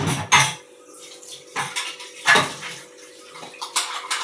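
Metal clanks and clatters in separate knocks as a lid is set on a pot of curry cooking on the stove, close and fairly loud with quiet gaps and a faint hum between.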